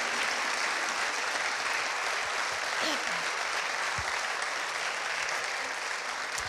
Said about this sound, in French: on vous applaudit très très fort